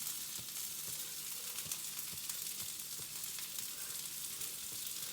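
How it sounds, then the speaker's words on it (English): Hot oil sizzles and crackles steadily in a frying pan as egg is poured in for an omelette, a close, even hiss with faint occasional pops and taps, no talking. "I am now pouring the egg into the frying pan."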